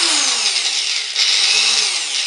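A cheap variable-speed angle grinder runs steadily and loudly with a bright, whining hum, briefly dipping once midway before spinning back up. No one talks.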